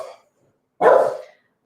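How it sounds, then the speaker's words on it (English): Indoor dog letting out a single loud, close bark after a short faint yip, with quiet in between. "Oops, Pucky's barking again."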